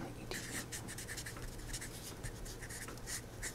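Equations are written on a board, producing soft, scratchy, rhythmic strokes that repeat steadily and close up, with no talking over them.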